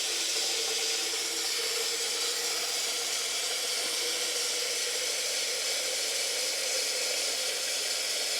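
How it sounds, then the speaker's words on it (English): Hot water pours steadily from a tap into a pitcher for a foot bath, a continuous bright hissing splash that stays even and fairly close throughout, with no voices. "I'm getting hot water to add to the foot bath"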